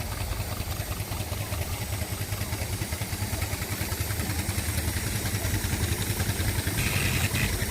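A Sentinel steam waggon runs at a steam fair, giving a steady, continuous mechanical chuffing clatter with a low rumble that holds at a constant loud level throughout, with no talking.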